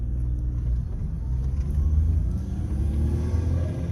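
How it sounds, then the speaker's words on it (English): A small hot hatch engine rumbles steadily in first gear, a continuous low drone close by with no talking. "Back into first gear."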